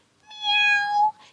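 A voice imitates a cat's meow as a playful stand-in for a lion's roar: one clear, sustained, tonal mew just over a second long, close and loud, alone.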